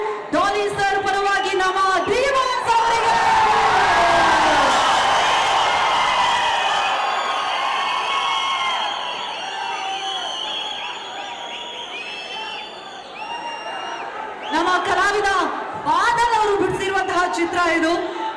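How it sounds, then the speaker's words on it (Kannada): A large crowd at a film gift event for Dolly Dhananjay cheers and claps loudly, a dense roar of voices and applause that swells, eases into a lower murmur of babble, then surges again near the end. "ದಯವಿಟ್ಟು ಜೋರಾದ ಚಪ್ಪಾಳೆ ಬರಬೇಕು"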